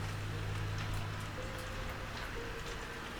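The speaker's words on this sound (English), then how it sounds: "You hear that rain out there?" Heavy rain falls outdoors as a steady, faint hiss of dense drops, continuous with no breaks or voices.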